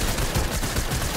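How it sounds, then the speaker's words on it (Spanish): Rapid gunfire rattles in a Fortnite match, a loud, dense string of overlapping shots with no pause and no talk over it. "Fallé todos los tiros"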